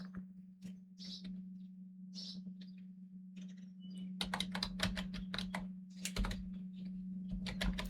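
Typing on a computer keyboard while entering a title, sparse clicks at first, then fast bursts of close keystrokes over a steady low electrical hum.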